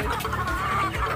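Free-range farm chickens cluck steadily up close, a low, repeated burbling cluck with a steady background murmur, no speech.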